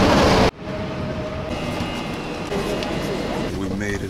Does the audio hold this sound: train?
yes